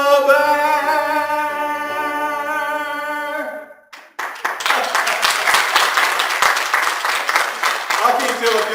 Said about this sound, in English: I can't tell if y'all are clapping or calling timeout.